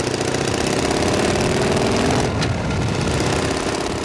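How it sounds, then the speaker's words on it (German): A 1973 Harley-Davidson Shovelhead V2 custom chopper engine runs under load, a loud, steady, throbbing mechanical drone with a brief sharp click partway through and no voices. "Und unter Last hörst du halt auch wirklich wieder den V2 und du hörst den Shovel."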